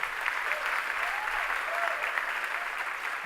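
Applause from a crowd at a live music performance after a drummer is introduced, dense and even throughout, with a few faint cheers mixed in.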